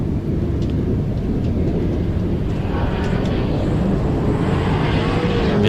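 Toyota GT86 Aisin drift car driven hard through a drift run, a loud, continuous engine roar with broad rumble and tire noise filling the whole stretch, steady in level.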